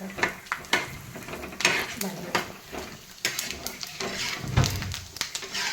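Peanuts roast in oil while a utensil repeatedly scrapes and clinks against the pan in irregular strokes over a soft sizzle, with a voice talking at times.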